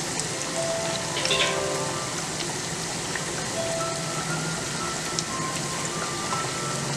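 Banana fritters frying in hot oil make a steady, dense sizzle that runs without a break, with faint crackles and pops scattered through it and no voices.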